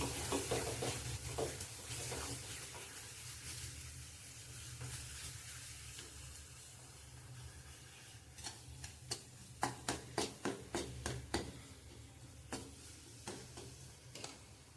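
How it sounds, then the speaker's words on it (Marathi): Cumin-coriander powder and Kashmiri chili powder fry in hot oil for a spicy village-style egg curry, with a steady soft sizzle and a quick run of sharp spoon clicks and stirring taps against the pan toward the end. "काश्मीरी मिरची पावडर अर्धा चमचा तर हे चांगलं तेलात भाजूया आधी"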